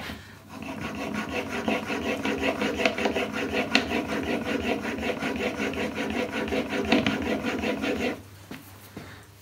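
A blade rubbed back and forth on a fine 6000-grit sharpening stone in a guide, a rhythmic, fast, close rasping scrape that runs steadily for about eight seconds, then stops.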